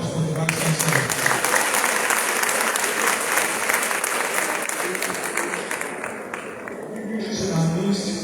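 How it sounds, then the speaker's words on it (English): Sustained applause from a large audience at an induction ceremony for newly qualified doctors, a dense, steady wash of clapping lasting the whole stretch, with voices speaking over it near the end. "I expected the louder applause from the Vice Chancellor."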